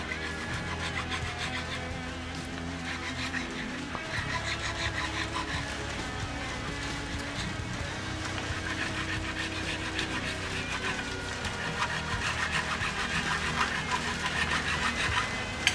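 Wet sanding a Mexican-made Fender Stratocaster guitar body with waterproof sandpaper, a continuous rhythmic rubbing rasp of back-and-forth strokes, close and steady, with a low background hum.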